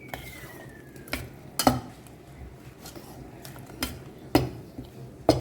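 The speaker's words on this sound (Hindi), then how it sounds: "पहले से ना अच्छे से इसे मिक्स करते हैं।" A spoon stirs masala paste with onion and tomato for a mushroom curry in a pan, with scraping clinks of metal on the pan at irregular intervals over a soft sizzle.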